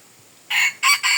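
A rooster crows nearby, loud and close, in three quick bursts over a faint background.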